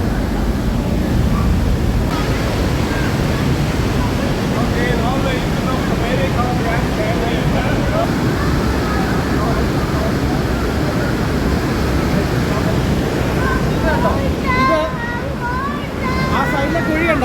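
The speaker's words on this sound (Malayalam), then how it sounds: "ഈ ഒഴുകുന്ന പുഴയെ ഭൂമിയുടെ മുകളിലൊന്നും കാണത്തില്ല" Glacial water roars continuously through the rock gorge of Trümmelbach Falls in Lauterbrunnen, Switzerland, a dense, steady rushing wash with faint voices talking beneath it.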